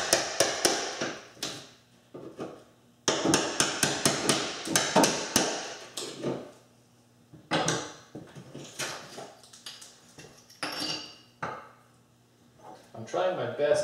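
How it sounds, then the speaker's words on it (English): Old tiles being hammered and chipped off a wall with drywall behind them: bursts of sharp, close, repeated impacts and cracking separated by brief quiet gaps. "I'm trying my best not to harm the drywall behind these tiles."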